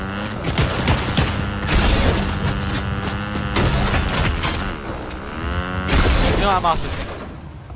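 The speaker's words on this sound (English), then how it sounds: "Oh my god, I missed all my shots." Rapid gunfire from an Ex-Caliber weapon in a shooter video game, dense repeated shots mixed with game effects, someone talking over it throughout.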